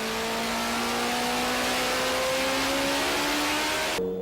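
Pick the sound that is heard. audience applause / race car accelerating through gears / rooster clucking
race car accelerating through gears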